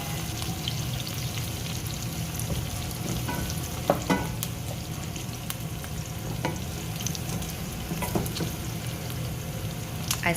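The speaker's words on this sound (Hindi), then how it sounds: "आहिस्ता आहिस्ता प्याज को चलाते रहें थोड़ी थोड़ी देर में।" Chopped onions for masala okra fry in a pan, a steady close sizzle with scattered scraping stir strokes and small clicks throughout, and no voices.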